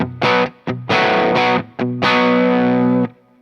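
An electric guitar plays straight into an amp set at the edge of breakup, with several short strummed chords and a final long one that rings out. The tone is gritty and lightly distorted, loud and close.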